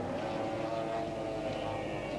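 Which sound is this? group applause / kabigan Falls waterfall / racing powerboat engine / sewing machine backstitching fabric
racing powerboat engine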